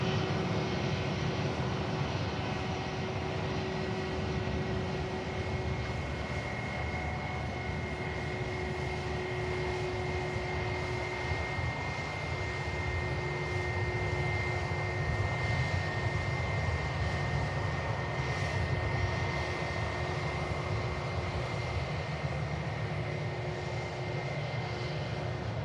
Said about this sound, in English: EasyJet climbs out.